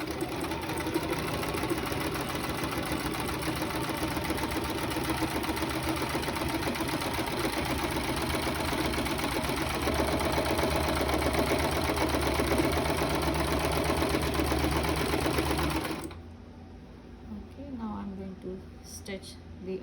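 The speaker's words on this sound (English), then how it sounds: "let's just run this sewing machine" A sewing machine runs steadily, stitching the curved edge of a fabric face mask for about sixteen seconds at a close, even drone before stopping abruptly, leaving quiet room sound with faint movement.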